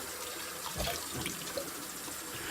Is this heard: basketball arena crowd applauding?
no